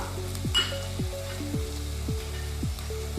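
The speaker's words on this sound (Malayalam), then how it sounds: "ആദ്യം ഹൈ ഫ്ലെയിമിലിട്ടിട്ട് വഴറ്റിക്കോളൂ കേട്ടോ" Carrots and onions sautéing over a high flame for white kurma, a steady close sizzle with a spoon or spatula scraping and clinking against the pan in a regular rhythm, no talking.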